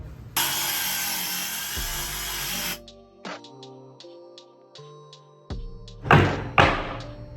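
Wooden cabinet templates for a camper van build being cut: a stretch of steady power-saw noise, then a series of light knocks and taps, ending with two loud wooden thuds close by.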